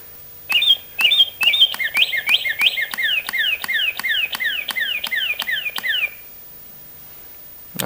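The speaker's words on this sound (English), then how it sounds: "after he's done with his bird song" A pet bird sings a quick run of repeated bright chirping notes, about a dozen rising-and-falling whistles in a steady rhythm, close and loud, then stops into quiet.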